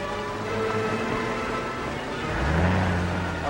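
Car engine running in a 1939 film scene, a low droning motor with a rising rev near the end, steady and fairly close, with no talk.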